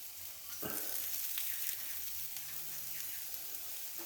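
Bacon sizzling on a premium flat iron griddle, a steady, fairly quiet crackling hiss that runs continuously with a few small pops.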